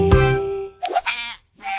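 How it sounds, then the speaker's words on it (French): Sheep give two or three loud, close bleats, with a long wavering cry followed by shorter calls and a brief gap between them. "les moutons marchent avec fierté"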